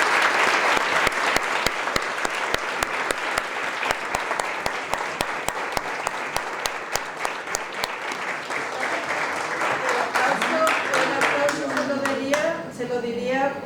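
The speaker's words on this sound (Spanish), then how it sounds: "vamos a darle un aplauso a Mercedes" A congress audience in a hall bursts into sustained applause, dense rapid clapping from many hands that holds steady and then tapers off as a voice begins speaking near the end.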